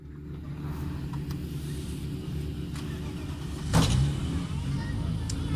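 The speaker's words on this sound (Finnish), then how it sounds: "me otamme seuraavan auton kohta lavalle" A rally car at the Arctic Lapland Rally (Tunturiralli) rolls up to the finish ramp, its engine a moderate low rumble that swells briefly near the end, while an announcer speaks over it.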